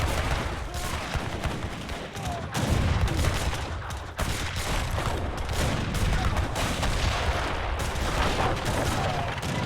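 Dense, continuous volleys of gunfire from organ guns in an Age of Empires III team game battle, loud crackling shots layered over each other without pause, with battle noise throughout.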